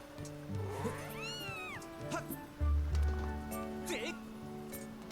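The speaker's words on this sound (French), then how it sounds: "Oh petit minou." A cat meows in Zelda Skyward Sword, several rising and falling mews over a steady game music bed with a low humming drone, all moderately loud and with no talking.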